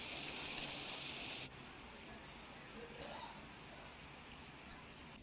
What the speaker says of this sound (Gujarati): बगसरा पंथकमां सतत त्रीजा दिवसे वरसाद वरसी रह्यो छे।